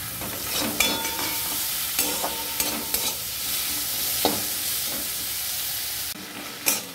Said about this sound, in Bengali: এবার দেবো চিংড়ি মাছ, কুচনো চিংড়ি মাছ,